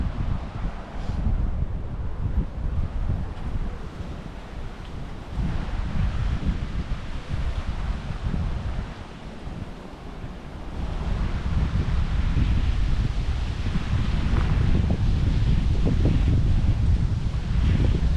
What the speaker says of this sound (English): you can just sit up here, listen to that wind